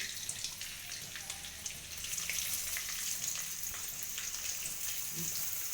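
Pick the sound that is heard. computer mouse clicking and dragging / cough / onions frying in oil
onions frying in oil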